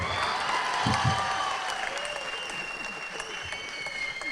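Audience at a Tamil film music launch event applauding, a dense, sustained wash of clapping that fills the hall and slowly thins, with scattered voices underneath.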